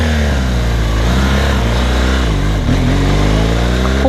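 A BMW sport motorcycle under hard acceleration on a fast ride, its engine note rising steadily and loudly close up, with wind rush throughout and no voices.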